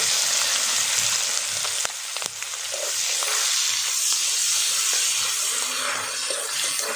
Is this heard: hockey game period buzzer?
no